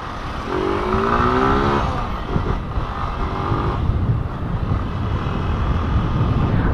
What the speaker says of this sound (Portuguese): Galera, a moto aqui tá meio fraca,